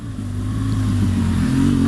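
A BMW motorcycle engine running close by, its loud steady drone climbing slightly in pitch over a couple of seconds as the revs build; no talking.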